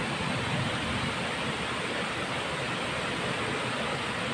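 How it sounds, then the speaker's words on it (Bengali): Heavy monsoon rain pours down steadily over a school playground during a thunderstorm, a dense, unbroken roar of falling water that stays loud and even throughout. "সে অনেক সুন্দর বৃষ্টি হচ্ছে গো।"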